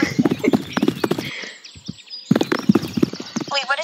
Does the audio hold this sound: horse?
yes